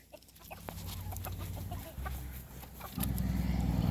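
Chickens clucking at close range in a farmyard, several birds making short repeated clucks over a steady low background rumble that grows louder near the end.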